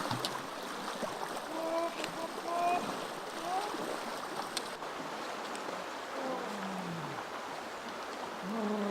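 Wading through a cold river in the early morning, with water sloshing and splashing continuously around the legs at close range over a steady rush of flowing current.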